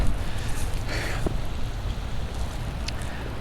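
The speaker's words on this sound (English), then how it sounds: "Well, the rain has let up a little bit." Light rain falls outdoors during a wet-weather ride test of an Inmotion V14 electric unicycle, a steady hissing wash with wind-like rumble and no talking.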